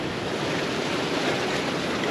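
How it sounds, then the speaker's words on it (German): Ocean waves rush continuously around a sailing yacht crossing the Pacific toward Nuku Hiva in the Marquesas, a dense, steady roar of water and wind with no speech. "Aber leider haben damit auch die Wellen zugenommen."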